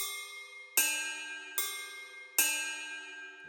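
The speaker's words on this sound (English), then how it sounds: "Then we have the cymbal, which is a ride" Three bright metallic ride cymbal hits at a steady pace, each shimmering and decaying slowly, heard alone and fairly quiet, from a beat made in FL Studio.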